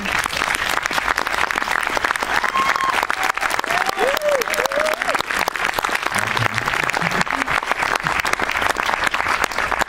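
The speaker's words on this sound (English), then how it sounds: "A great applause for her." Sustained applause from a large film festival audience after a screening, dense steady clapping throughout, with faint voices and a few whoops rising under it.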